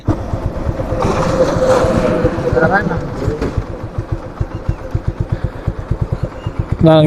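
A motorcycle engine idles close by on a road in Gazipur, its rapid even thumping pulses steady throughout, with people talking over it during the first half.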